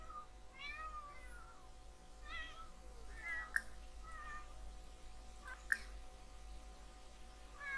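A cat in The Sims 4 video game gives several short, faint meows spaced a second or so apart over a steady low game hum, with two brief clicks in between.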